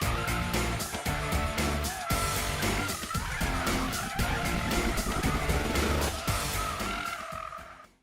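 An electric car spins donuts, its tyres screeching loudly and continuously with pulsing surges as it circles, before the squeal fades away at the end.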